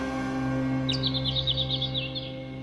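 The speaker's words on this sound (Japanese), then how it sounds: "鳥が元気よく鳴いてる。" Birds chirp in a quick, bright trill of about a dozen notes lasting over a second, set in the Amnesia: Memories video game on a snowy winter day outside a window, over a steady low ambient drone.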